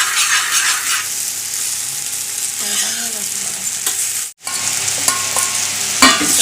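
Chicken pieces fry with a loud, steady hiss in a pan for chowmein, stirred with a few utensil scrapes and clinks, and the sizzle drops out for an instant near the end before resuming.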